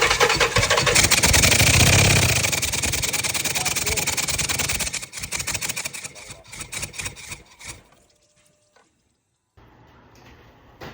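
A 5.7-litre V8 in a 2008 Dodge Durango idles roughly with a cylinder 4 misfire and deactivation fault, a loud close engine drone with uneven pulsing that fades out near the end, someone talking over it early on.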